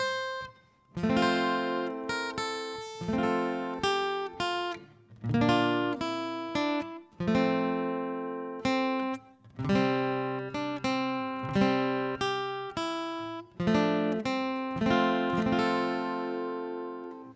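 Guitar chords of Away in a Manger strummed with a pick in a steady, unhurried rhythm, each strum ringing briefly before the next, clear and close with no voices.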